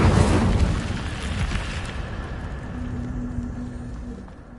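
An Incendio fire spell is cast in the video game Hogwarts Legacy: a loud, close whoosh of flame bursts out at once, then settles into a rumbling roar that slowly fades over a few seconds.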